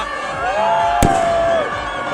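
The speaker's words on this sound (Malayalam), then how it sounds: "പടക്കൊക്കെ പൊട്ടിച്ചിരിക്കുന്നത്" A single sharp firecracker burst cracks out near the middle of the sound of a local football match crowd in Meenangadi celebrating a goal, while a high whistling tone rises and falls around it.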